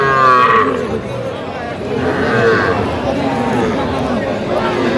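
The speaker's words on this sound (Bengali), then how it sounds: "আজকে গরু কেনাকাটা চলতেছে ষাড় বাচ্চা ষাড় বাচ্চা আমরা দেখছিলাম" Cattle low at a busy livestock market where young bulls are being bought and sold, the moos rising over a steady crowd murmur and people talking throughout.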